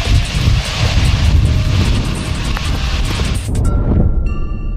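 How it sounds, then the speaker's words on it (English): Antonov An-225, a giant six-engine cargo jet, roars loud and close with a broad rushing engine noise, then cuts off abruptly near the end. "It's the one-of-a-kind Antonov 225."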